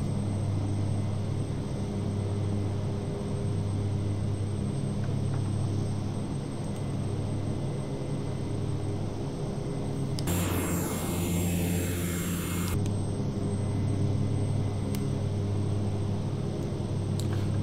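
A Carenado S360 propeller aircraft drones steadily in a flight simulator, its engine hum constant and even throughout with no voices, aside from a brief brighter noise burst partway through.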